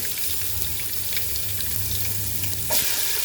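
Garlic with curry leaves and bay leaves frying in oil over a medium flame, a steady close sizzle with a brief louder burst near the end.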